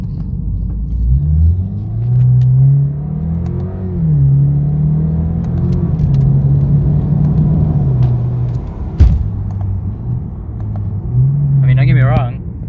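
A Lexus IS200t with its axle-back mufflers deleted, heard from inside the cabin: a loud, low, booming exhaust drone that rises and falls as the engine pulls through the gears, with a person talking over it.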